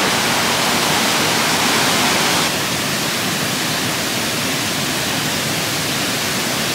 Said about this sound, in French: Et là on entend beaucoup la cascade.